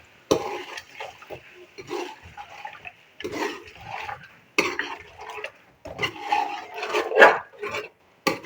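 Yogurt is stirred into a beef korma spiced with black pepper in a pot, producing rhythmic scraping and thick wet squelches in repeated strokes, close and fairly loud, with short pauses between bursts.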